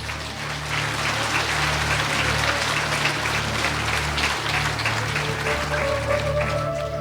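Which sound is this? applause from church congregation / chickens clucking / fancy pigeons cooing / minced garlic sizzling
applause from church congregation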